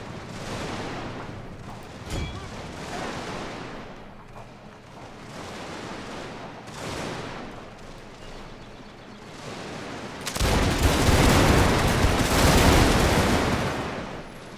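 Musket volleys from Dragoons crackle in scattered bursts across a Mexican–American War battle in Victoria Total War, with a rolling rumble beneath, building to a heavy, dense roar of massed fire near the end.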